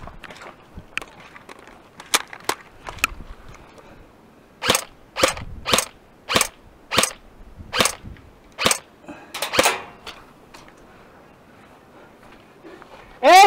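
Airsoft guns fired during outdoor skirmish gameplay, sharp snapping shots in single pops and a rapid run of about ten evenly spaced cracks, fairly close, with brief voices mixed in.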